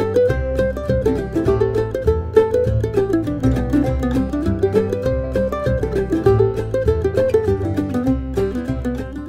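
Mandolin playing a fast fiddle-tune melody, a variation of Billy in the Lowground taken up the neck, with busy picked notes over steady bass and chord tones, close and even in level with no talking.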